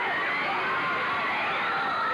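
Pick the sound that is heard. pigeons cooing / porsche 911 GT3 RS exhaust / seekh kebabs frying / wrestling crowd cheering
wrestling crowd cheering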